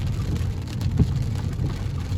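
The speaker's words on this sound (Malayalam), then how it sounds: "പക്ഷെ ഇപ്പം അത്യാവശ്യം നന്നായിട്ട് പെയ്യുന്നുണ്ട്." A steady downpour of heavy rain drums on nearby surfaces in an even, unbroken wash of sound, close and loud, with no talking over it.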